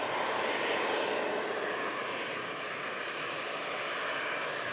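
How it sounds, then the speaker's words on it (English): A Ryanair Boeing 737-800 airliner touching down on arrival from Malaga gives a loud, close, broad roar of engine noise that holds steady for the whole stretch, with no voices. "it's Ryanair just touching down from Malaga"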